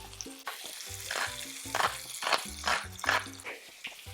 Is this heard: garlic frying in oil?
yes